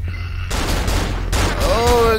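Enemy gunfire in the horror game Cry of Fear erupts as a sustained booming burst of shots, loud and rumbling, with a brief ringing tone near the end.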